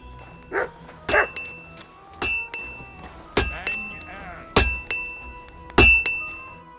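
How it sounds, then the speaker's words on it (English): A blacksmith's hammer bangs on metal at a smithy in the video game Kingdom Come: Deliverance 2. Sharp, ringing metallic strikes land at irregular intervals, about seven in all, clear and fairly close. "You can't miss the banging of the hammer."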